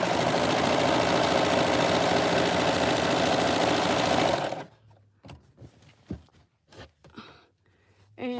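A serger overlock sewing machine stitching a bag runs loud and steady for about four seconds, then stops, leaving faint handling clatter and soft thumps.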